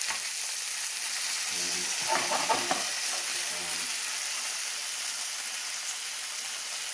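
Steak with browned onions and fennel sizzles steadily in a hot pan, a constant close crackle with a brief murmur of voice partway through.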